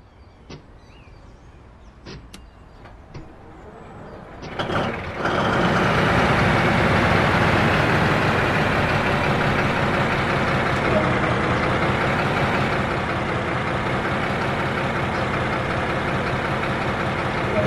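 A few clicks, then a DB BR 204 diesel locomotive engine in Train Sim World 2020 roars into life via the start switch and settles into a loud, steady idle rumble that fills the rest of the clip.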